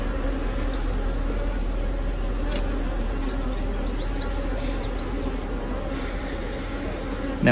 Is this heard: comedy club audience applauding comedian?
no